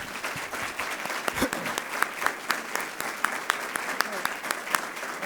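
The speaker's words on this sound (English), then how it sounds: "for your applause for our wonderful audience." Scattered, moderately distant applause from a civic association audience at a candidates' forum, a steady patter of claps with several sharper individual claps and faint voices mixed in.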